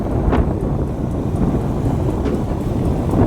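Steady wind buffeting the microphone on an open road with no buildings nearby, a constant low rumbling roar that fills the whole clip with no let-up.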